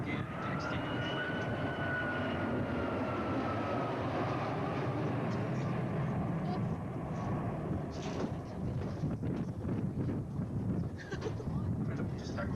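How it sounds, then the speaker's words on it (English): A Royal New Zealand Air Force Boeing 757 flies past at an air show, lowering its gear and flaps, giving a loud, steady broadband roar with a faint whine that gradually softens. "As the aircraft comes round, just lowering the gear and extending the flap."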